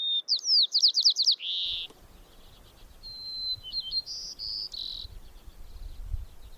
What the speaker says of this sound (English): the loud bird is the white-crowned sparrow